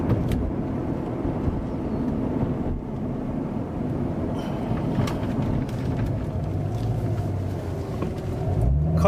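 A 2016 Corvette Z51 3LT cruising on a road gives a steady low engine and tire drone from inside the cabin, with light wind rush and a few small clicks and knocks.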